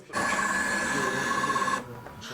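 A 3D printer used by volunteers to make drone parts whirs and hums steadily up close for about a second and a half, then cuts off to a quieter room background.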